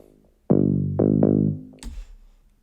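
Synth bass line from a house production in Ableton: three rich, buzzy sustained notes in quick succession, then a brief lower tail with a bright noisy click, close and alone.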